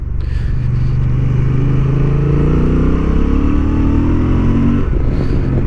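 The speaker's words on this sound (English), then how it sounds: "you accelerate this bike at your own risk and at your own riding abilities" A 2023 Honda XL750 Transalp twin accelerating hard on a racing track, its engine note climbing through several rising pulls broken by quick gear shifts, loud and close with no talk.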